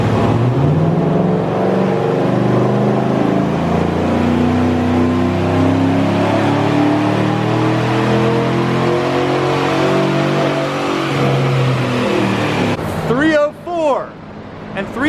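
A Chevrolet Silverado engine revs hard on a dyno, climbing in a long sustained pull with rising pitch, very loud and close, before it drops off abruptly near the end.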